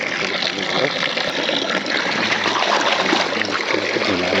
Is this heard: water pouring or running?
yes